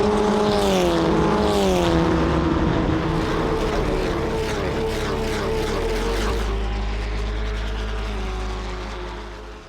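Race cars launching together from a standing start at a French championship race, several engines roaring and revving up in rising pitch sweeps, loud and close, then blending into a deep sustained drone as the pack pulls away.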